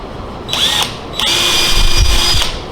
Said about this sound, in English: I drilled a hole